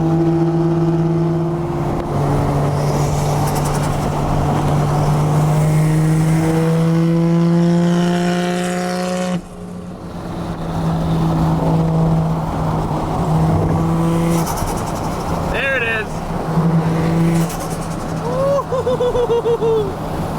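A Lamborghini Revuelto V12 with aftermarket exhaust revs hard and climbs through the gears, loud and close, with a brief drop in the middle before the sharp, screaming revs return.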